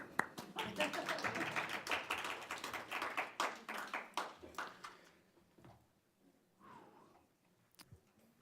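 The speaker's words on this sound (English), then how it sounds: "I'm going to clap." A handful of people clapping at a school board meeting after a motion passes, sharp close claps that thin out and fade, with a few scattered claps trailing into quiet.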